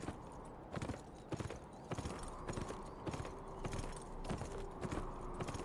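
Horse hooves clip-clop in a steady, uneven walking rhythm in the video game Beyond: Two Souls, each footfall sharp and fairly close over a quiet background.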